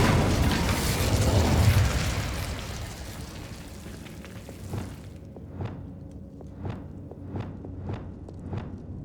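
A fire spell cast in the Hogwarts Legacy video game makes a broad, loud whooshing roar that fades after about five seconds. A series of evenly spaced, crisp clicking footsteps follows.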